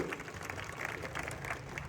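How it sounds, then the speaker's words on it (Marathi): Crowd applause at a wrestling (kusti) match in Lohgaon, Pune, a steady dense clapping wash from a large audience, moderately loud and continuous throughout with no clear speech over it. "त्यांच्यासाठी सुद्धा टाळ्या करा,"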